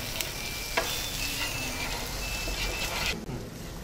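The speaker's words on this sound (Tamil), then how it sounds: "ஆட் பண்ணி நல்லா வதக்குங்க." Chili and coriander powder sautéing in a hot pan for chicken or mutton keema samosa filling, giving a steady close sizzle with faint stirring scrapes throughout and no voices.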